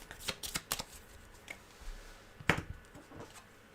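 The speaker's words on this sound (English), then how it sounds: "And then we're going to shuffle the cards." Playing cards from the Aeon's End board game being shuffled by hand, a quiet series of sharp riffling bursts in quick clusters, with one louder snap of cards partway through and no talk.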